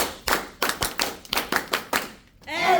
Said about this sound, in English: And one Edmark International clap to every one of us here